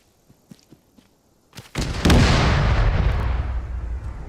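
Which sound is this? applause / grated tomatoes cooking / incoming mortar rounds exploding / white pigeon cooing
incoming mortar rounds exploding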